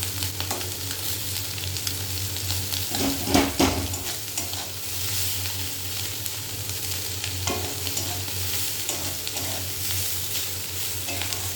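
A bhetki fish head fries crisp with onions in hot oil, crackling and spitting in a continuous near sizzle with occasional stirring knocks and no talking.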